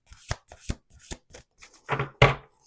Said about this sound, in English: Let's do 2 more shuffles.